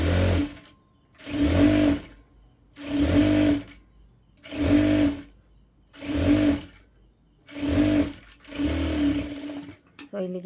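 Blouse fabric runs through a sewing machine in six or seven even bursts of loud, close whirring stitching, each separated by a short pause.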